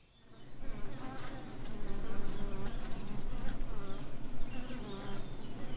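Honey bees swarm and hum steadily over extracted honey frames in a super set out in a field away from the hives, a dense close buzzing with individual insects zipping past.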